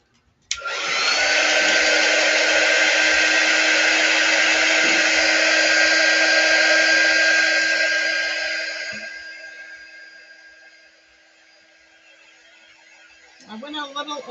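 A handheld hair dryer blows steadily on a craft project, a loud continuous whoosh that starts abruptly, holds for about eight seconds, then drops to a quieter hum before a brief burst at the end.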